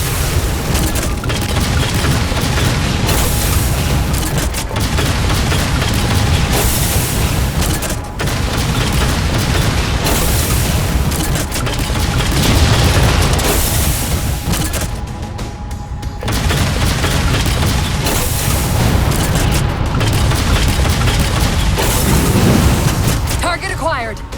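Railgun shots and explosions from the Halo 4 campaign in co-op play: heavy, continuous booming blasts and rumbling impacts fill the whole stretch, loud and dense, with brief dips, while a game voice speaks over the barrage.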